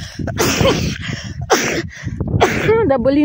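A woman sneezes sharply amid short bursts of nearby Russian speech in an indoor spot in Anapa.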